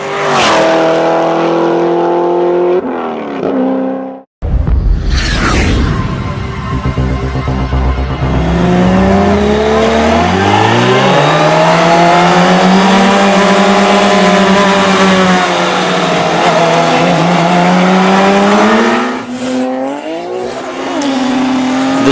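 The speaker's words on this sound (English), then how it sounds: "The Supra allows the Lamborghini a little bit of a jump, knowing that it's got enough horsepower to chase it down" Toyota Supra and Lamborghini racing with loud, close engine roar climbing through the gears, a sharp rising whine after a brief drop, then sustained high revving.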